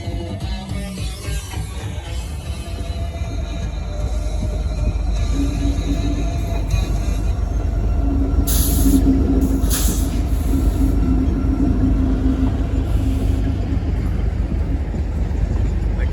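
A train rolls past with a loud, steady rumble and rattle of cars, faint wheel squeals and a brief high hiss partway through.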